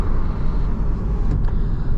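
A Porsche 987.2 Boxster Base with its engine mounted behind the driver, heard during an acceleration pull: a loud, steady, heavy low engine drone filling the cabin, with no speech.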